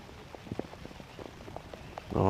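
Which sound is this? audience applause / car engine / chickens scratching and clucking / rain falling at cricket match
rain falling at cricket match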